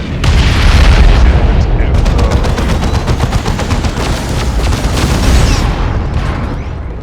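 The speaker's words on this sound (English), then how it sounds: "The Eldar have opened fire." Loud, dense gunfire and explosions from a Warhammer 40K Dawn of War 2 battle, with rapid machine-gun bursts and booming blasts layered almost continuously for several seconds.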